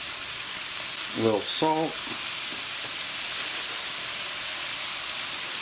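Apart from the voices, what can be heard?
green onion and salt sizzling while frying rice in a pan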